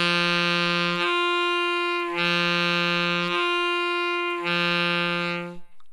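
A saxophone plays an octave-drop tone exercise on D, alternating sustained low and high notes slurred together in a slow, even pattern, close and clear without speech.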